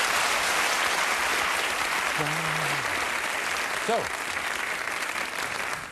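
A television studio audience applauds for Sepp Maier on the German game show Am laufenden Band, a steady dense roar of clapping that fills the whole clip, with a brief voice heard over it.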